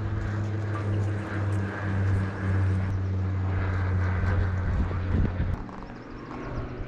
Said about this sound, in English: there's a plane every time we come out here